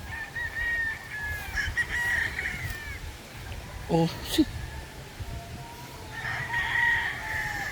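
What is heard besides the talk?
roosters crowing and chickens clucking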